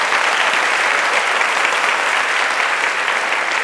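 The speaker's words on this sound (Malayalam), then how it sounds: "ഉള്ളിൽ നിന്ന് നല്ലൊരു ക്ലാപ്പ് കൊടുക്കാവും" An audience at a hypnosis stage show claps loudly and continuously. The applause is a sustained wash of many hands at an even level throughout.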